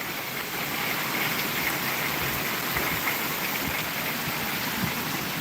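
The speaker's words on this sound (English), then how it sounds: "It's some cold raindrops, ain't it?" Cold raindrops fall outdoors in a steady, even wash of soft hiss and patter, fairly close, with no talking.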